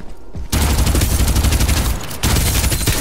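Rapid gunfire in the battle royale shooter Farlight 84, a loud sustained burst of automatic shots that cuts off briefly and resumes, with no talk over it.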